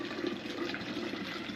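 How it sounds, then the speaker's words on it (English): Rose water poured from one bottle into another, a steady close liquid trickle running without pause. "I'm going to pour this into the other one."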